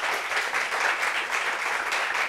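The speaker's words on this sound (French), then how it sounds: "Applaudissez encore pour Michel." A live audience claps steadily for Michel, a Zouglou performer, filling the room with dense, continuous applause from start to finish.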